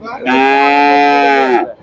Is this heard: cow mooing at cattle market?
yes